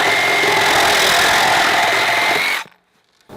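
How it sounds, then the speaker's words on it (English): A Makita XRJ05 18-volt brushless Sawzall reciprocating saw cuts through ABS plastic pipe, a loud steady buzzing rasp that runs without a break and then stops abruptly, leaving near silence. "Some plumbers like to rough in using a Sawzall to cut their ABS pipe."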